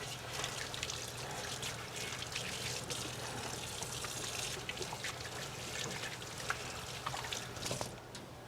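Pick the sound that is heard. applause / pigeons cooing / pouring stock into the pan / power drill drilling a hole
pouring stock into the pan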